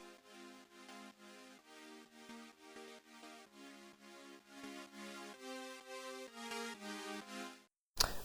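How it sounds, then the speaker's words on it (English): A stab lead synth in an EDM track plays short, punchy chords in a steady repeating rhythm, with the pitch moving in steps across several bars before cutting off abruptly at the end. "Third lead, it's a stab lead."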